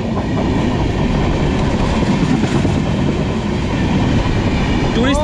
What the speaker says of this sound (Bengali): এই একটা ট্রেন আসছে, একটা ট্রেনের ক্রসিং